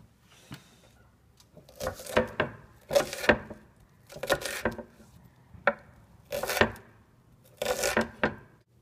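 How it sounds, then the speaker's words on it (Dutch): An onion is chopped with a knife on a cutting board in a home kitchen, in irregular bursts of quick knocking cuts, close and moderately loud, with short pauses between. "Nou, misschien moet jij het gewoon even dat uitje snijden."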